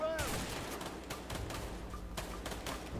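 Gunfire during a Mexican shootout in the video game A Way Out: a rapid series of sharp, close shots crack over one another over background game sound and talk.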